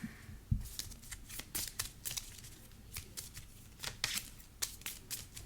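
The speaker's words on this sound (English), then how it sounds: "Let's shuffle a Double Life into my deck." Marvel Champions playing cards being shuffled into a deck by hand, a close, continuous run of crisp riffling bursts with one soft thump near the start, and no talking.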